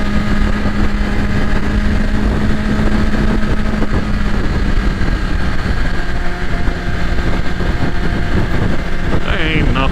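A BMW S1000RR sportbike's engine drones steadily while riding, with a constant mid-pitched hum mixed with wind rush and a brief higher whine near the end.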